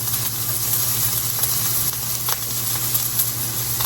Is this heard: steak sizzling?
yes